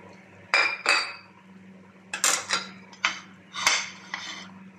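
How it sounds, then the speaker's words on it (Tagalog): Chunks of potato dropped into a pot of beef caldereta, a series of separate clattering clinks and knocks against the metal pot and utensils, close and fairly soft with short pauses between them. "Ilagay na natin itong ating patatas."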